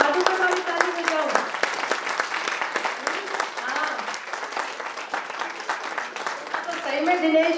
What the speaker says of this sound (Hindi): सुरेंद्र भाई जी के लिए ताली बजाओ